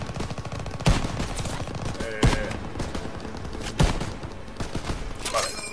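Game gunfire in the World War II shooter Call of Duty: WWII, D-Day mission: three loud sharp shots stand out over a steady rattle of distant automatic fire and battle noise, with no talk.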